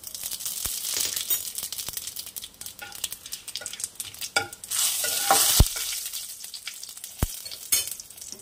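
A bay leaf, a split dried red chilli and radhuni seeds crackle and sizzle steadily in hot oil, with a few sharp pops and bursts of louder spitting, close by and with no voices.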